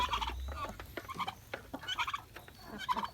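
Young turkeys chirp and peep in quick, soft bursts, several calls overlapping at a low, quiet level.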